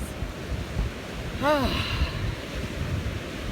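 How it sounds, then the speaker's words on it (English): Ocean waves washing onto a beach, a steady broad roar with some wind noise on the microphone and faint voices. "to just breathe in that ocean"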